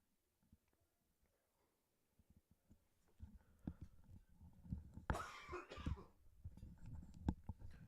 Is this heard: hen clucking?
no